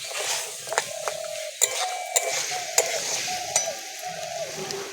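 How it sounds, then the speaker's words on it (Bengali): Spice mix and peas fry in a pan, a steady sizzle broken by sharp clinks and scrapes of a spoon stirring against the metal, close and fairly loud, with no talk. "আবারও ভালো করে ভেজে নেব।"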